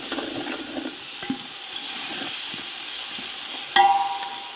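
Rice fries with a soft, continuous sizzle for pea pulao while a wooden spoon scrapes and stirs it in irregular strokes, ending with a sharper knock against the pot.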